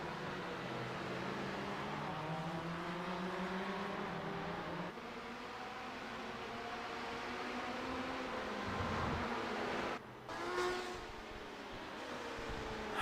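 Race cars in a sim racing endurance game at Barcelona, engines droning and shifting pitch as they run down the straight, steady loud engine tone with rising and falling harmonics, no talking.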